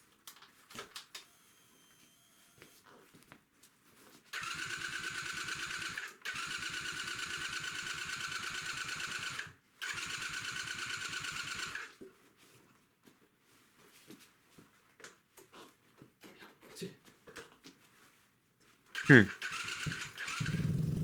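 A motorcycle engine cranks and then fires up, its steady running drone holding for several seconds in two stretches with a short break between, followed by quieter knocks and handling noises and a sharp clack near the end.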